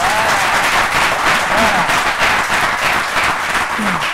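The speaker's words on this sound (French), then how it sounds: "allez applaudissez-vous bien fort." A congregation claps loudly together, a thick, continuous roar of many hands close by, with a brief voice speaking over the applause and cheering calls rising now and then.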